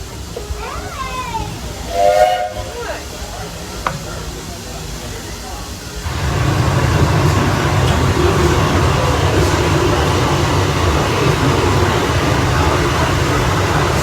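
The steam train of the Walt Disney World Railroad at the Magic Kingdom, with people talking over quieter mechanical sounds before a loud, steady steam hiss takes over and continues to the end.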